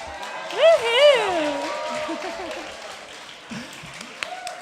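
An awards-ceremony audience applauds steadily while whoops and cheering voices rise over the clapping early on, then the applause gradually thins and fades.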